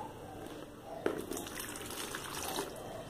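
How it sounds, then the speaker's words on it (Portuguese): Cold water pours into a small container to dilute caustic soda for homemade soap made with used frying oil, a faint, soft splashing trickle with a brief sharper splash partway through. "Água fria para diluir a soda."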